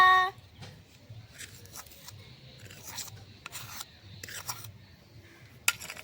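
A spoon scrapes and rubs through amla pickle being mixed with fried spices, black salt, chilli and turmeric in a small bowl, giving soft irregular rasping strokes, close and fairly quiet with brief pauses between them.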